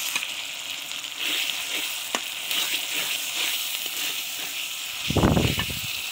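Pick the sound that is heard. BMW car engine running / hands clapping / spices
spices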